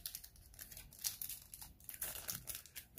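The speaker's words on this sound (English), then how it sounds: "I like to open my packs kind of neat, just in case I want to put the cards back in." A Pokémon Fusion Strike card pack wrapper is opened carefully by hand, giving close, quiet crinkling and soft tearing of foil plastic in short irregular bursts, with no voices.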